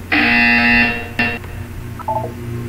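A loud, steady electronic buzzer sounds for about a second, breaks off briefly, then gives a short second burst, followed by faint background tones.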